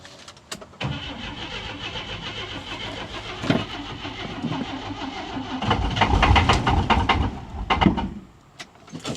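An old engine cranks, catches and starts, then keeps running with a rough, uneven idle that rises into a stronger surge before easing back, heard up close with mechanical clatter and no voices.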